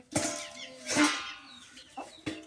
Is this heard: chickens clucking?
yes